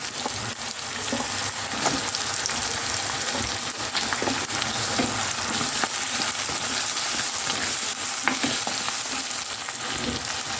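Tomato and potato for a Kashmiri chicken curry sizzle and fry steadily in a pan while being stirred, with scraping spoon strokes and small clicks over a continuous broadband hiss, close and fairly loud throughout.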